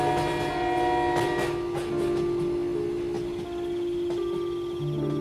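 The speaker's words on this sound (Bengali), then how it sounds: "ট্রেনটা ঝমাঝম করতে করতে ঢুকলো তালপুর স্টেশনে।" Cartoon sound effect of a train pulling into Talpur station: a sustained horn-like tone rings over steady rumble and clatter, with a few sharp knocks, loud and continuous throughout.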